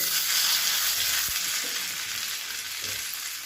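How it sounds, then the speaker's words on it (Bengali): Cashews and raisins frying in hot ghee, a steady close sizzle with faint crackle and a soft stir or scrape of the pan, no voices. "ঘিটা গরম হয়ে গেছে। এবার এর মধ্যে আমি কাজুগুলো আর কিশমিশগুলো দিয়ে দেবো।"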